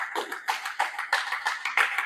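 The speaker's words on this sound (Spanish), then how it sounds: "Denle un aplauso al Señor." A church congregation claps during a Spanish-language service, giving a brief, close run of rhythmic handclaps with a few taps mixed in.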